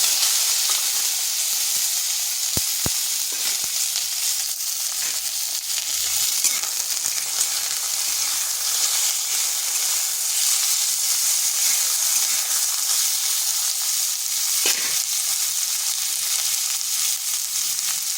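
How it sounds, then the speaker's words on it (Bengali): Star fruit frying in oil with chilli, bay leaf, five-spice and black mustard seeds for a chutney, a steady bright sizzle over slow heat with occasional clinks and scrapes of stirring. "আঁচটা স্লো আঁচ করে বেশ কিছুক্ষণ এভাবে নেড়ে নিচ্ছি।"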